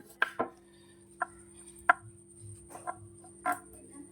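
A knife chops fresh ginger into thin julienne strips on a cutting board for Kerala-style mappas, with about nine crisp, separate knocks spaced irregularly, some in quick pairs, close and clear against a quiet kitchen.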